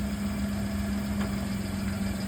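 A manual car's engine idles steadily in reverse during a driving lesson, a constant low hum with a droning tone, close and even throughout with no revving.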